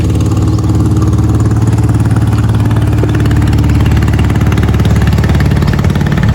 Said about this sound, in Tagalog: May bangkang di motor.